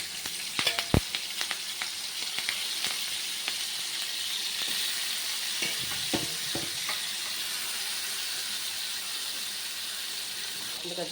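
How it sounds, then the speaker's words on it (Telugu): Fish pieces fry in oil in a pan on a stove, a steady close hiss and sizzle with a few sharp pops and crackles early on, no talking. "ఇప్పుడు ఫ్రై చేస్తాను చూడండి"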